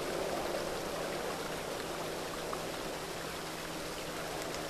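Water pouring in the video game Satinavs Ketten, heard as a soft, steady, continuous rush of liquid with no other sounds.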